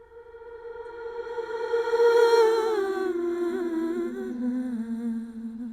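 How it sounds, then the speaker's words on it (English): A swelling, ghostly sustained tone from a reversed reverb effect in Ableton builds up gradually then slowly bends downward and fades, giving an eerie backward-reverb wash with no speech. "we reverse that, we have that creepy reverse reverb"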